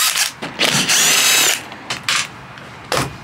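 A cordless impact driver removes T30 bulkhead screws inside a VW Caddy van, letting out several short, loud bursts and one longer burst of about a second, separated by brief pauses.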